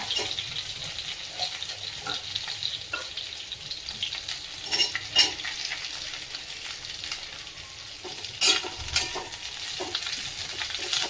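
Chopped onion sautés with coriander stems in a pan, a steady close sizzle with scattered spoon scrapes and a few louder clatters.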